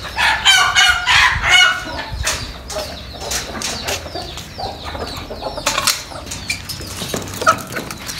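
Chickens clucking and crowing close by, with busy overlapping calls and some wing flapping, and no talk over them.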